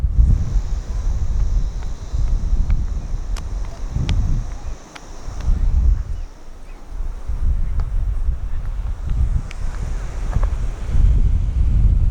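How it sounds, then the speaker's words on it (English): Strong wind buffets the microphone outdoors near Coffs Harbour, Australia, in heavy, low rumbling gusts that rise and fall throughout, with brief lulls between blasts. "It's a bit windy, it is a bit windy"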